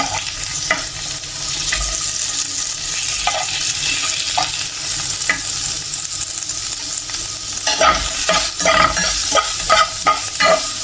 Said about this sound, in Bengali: যতটুকু তেল আছে ওর মধ্যে পেঁয়াজটা ভাজা হয়ে যাবে।